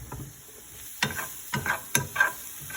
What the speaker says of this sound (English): So you get the chili all over those onions.